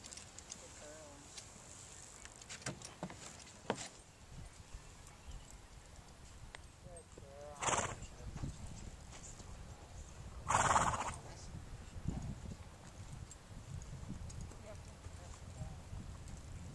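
Horses at a colt starting clinic in Fort Collins, with a couple of loud neighs and scattered hoofbeats clip-clopping on the ground, while people talk intermittently in the background.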